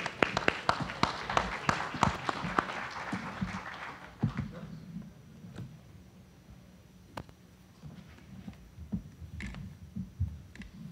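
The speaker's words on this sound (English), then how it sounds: "Let's give him a round of applause." Scattered audience clapping at a veterans' conference panel, a burst of claps that thins out and fades after a few seconds, leaving a quiet room with occasional taps and rustles.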